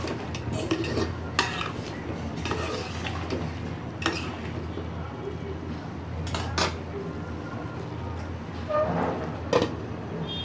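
Spoon scraping and clinking around a pot of hilsa fish curry with potatoes, a steady close run of stirring scrapes and metal knocks over a low kitchen hum, with no one talking.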